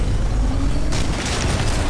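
A charged Northstar rail shot in Titanfall 2 cuts in abruptly as a loud booming blast over a steady low rumble of game noise, with no talk.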